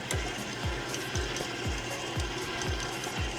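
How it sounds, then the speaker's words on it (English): Stand mixer running at low speed while mixing potatoes with butter and cream cheese, a steady mechanical whir with a regular repeating knock about every half second, close and continuous with no talk. "when you turn your stand mixer on, we're gonna turn it on a very low speed to begin with"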